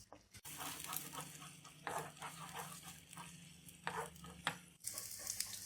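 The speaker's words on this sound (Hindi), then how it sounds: "जिसमें हम प्याज फ्राई करेंगे।" Roughly chopped onions, two of them, fry gently in a pan for an aloo baingan dish, giving a steady low sizzle broken by repeated scraping stir strokes.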